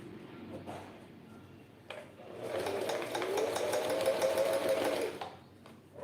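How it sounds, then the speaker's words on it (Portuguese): A sewing machine stitches a fabric wine holder, starting with short bursts and then running in a steady buzzing whir for several seconds before it stops. "Eu vou costurar com meio pé de máquina."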